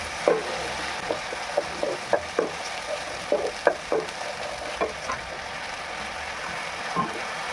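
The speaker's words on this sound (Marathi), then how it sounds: "मसाला छान असा भाजून घेतो" Masala roasting in a pan for a Marathi-style matki bhaji, a steady close sizzle with repeated light scraping taps of a spoon as the spices are stirred.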